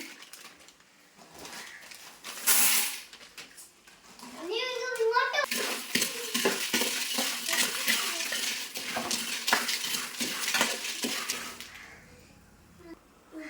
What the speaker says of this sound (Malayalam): അട അങ്ങനെ നമ്മൾ നെയ്ക്കകത്ത് ഇളക്കി എടുത്തിട്ടുണ്ട്